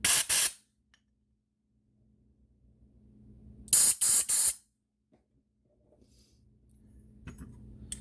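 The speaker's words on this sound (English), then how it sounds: "there is a passage in here I'm going to blow out as well" Compressed air blasts through a passage in a Dellorto VHB 29C carburetor from a 1973 Moto Guzzi, two loud short bursts of hissing several seconds apart, separated by near silence and faint handling noise.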